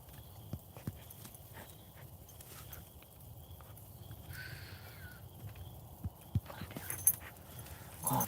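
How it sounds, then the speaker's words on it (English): A Belgian Malinois dog moves about close by, producing soft scuffles and scattered light taps over a low, quiet background with no voices. "I'm being attacked by a wild Belgian Malinois."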